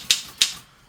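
Two crisp, loud key strikes sound on a Mercedes mechanical typewriter, roughly a third of a second apart, each a sharp close clack with a brief ring, followed by quiet.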